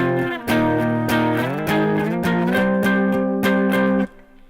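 A distorted electric guitar plays measures 3 and 4 of a song, loud sustained power-chord strums that shift pitch over about four seconds, then cut off abruptly.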